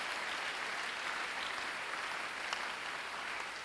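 A church congregation applauds continuously, a dense, steady wash of clapping that stays loud and even from start to finish with no voices standing out.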